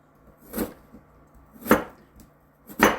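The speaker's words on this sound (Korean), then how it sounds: "무를 이렇게 이렇게 썰어서 이렇게 해서" Radish being sliced with a knife on a cutting board, three distinct chops spaced about a second apart, close and clear over a quiet background, no voices.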